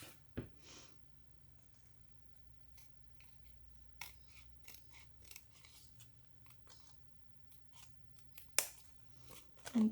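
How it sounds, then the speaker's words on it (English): Scissors snip through paper during collage crafting, a series of soft, irregular close cuts with crisp clicks scattered over quiet background, a couple of louder snaps near the end. "I'm cutting the paper."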